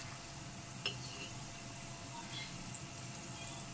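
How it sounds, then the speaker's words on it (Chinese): Peanuts and garlic stir-fried in a wok in oil left hot after the heat is turned off, giving a steady low sizzle and faint crackle with one brief sharper clink near the start. "再用鍋中油的餘热再翻炒翻炒。"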